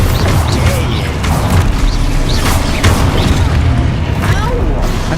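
Expulso explosion spell going off in Hogwarts Legacy, a series of loud booming blasts and crashing impacts over a few seconds, with a voice talking over them.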